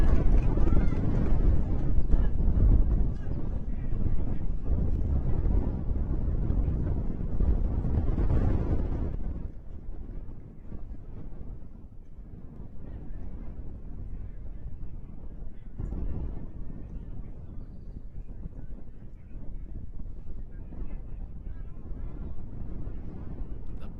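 Strong gusts of wind buffet the microphone at a soccer stadium in a loud rumbling roar that eases after several seconds into steadier, softer blowing.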